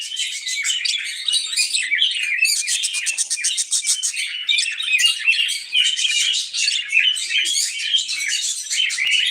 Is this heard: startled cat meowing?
no